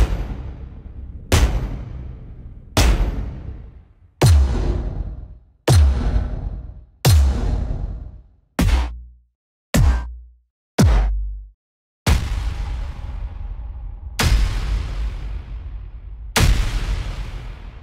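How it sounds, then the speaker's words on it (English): Cinematic impact hits from the Detonator Rage sound library, a series of about a dozen huge booming strikes with round-robin variations, each a sharp loud attack decaying into a rumbling tail, spaced roughly a second apart. "this patch, which features huge impacts with round robin variations, perfect for repeated hits"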